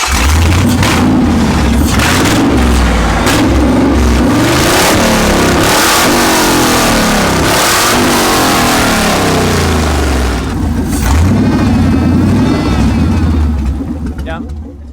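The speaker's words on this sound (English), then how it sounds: "So this is Sean's exhaust that he made today" A Ford Ranger with a 5.0 V8 and a homemade exhaust revs repeatedly, loud and close, the engine climbing and falling in pitch in several pulls before settling lower toward the end.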